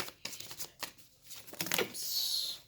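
Tarot cards being shuffled up close, a run of quick soft riffling flutters followed by a longer papery whirr, fairly quiet.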